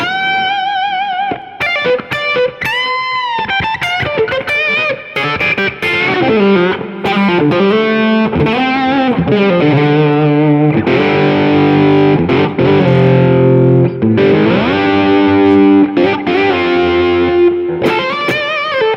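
Distorted electric guitar through a Universal Audio amp simulator plays a melodic lead over chords, loud and continuous with sustained bends and shifting notes.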